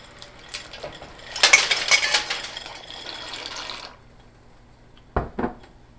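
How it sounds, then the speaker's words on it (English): Dry pasta pours into a metal pan for gouda mac and cheese, a dense rattling clatter lasting a couple of seconds that then settles into a soft hiss, followed by two short clinks. "I'll let the pasta go in the pan"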